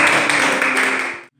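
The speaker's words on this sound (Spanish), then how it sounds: "Aplauso para Pablo." A group applauds for Pablo, a student who has just played a short scale at a special music training session in Bogotá, with a brief burst of steady, close clapping that stops abruptly.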